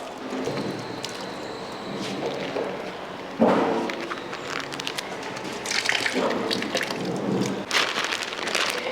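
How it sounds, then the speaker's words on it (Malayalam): Two litres of yogurt pour into a copper pot for a wedding-style beef biryani. Wet splashing and glugging come in uneven bursts, growing busier in the second half, with no talk. "ഒരു ചെമ്പിൽ രണ്ട് ലിറ്റർ തൈര് വെച്ചാണ് ഒഴിക്കുന്നത്"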